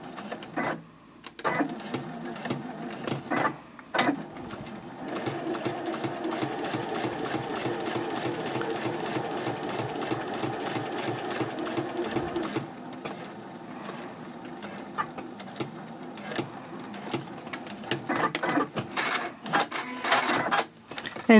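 A domestic sewing machine stitching in the ditch along the faux binding of a quilted pouch, a steady fast mechanical whirr and clatter running nearly continuously, with brief stops and clicks at the start and end.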